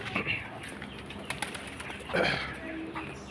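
Pigeons coo softly nearby, with a brief flutter of wings, all faint and quiet with some background murmur.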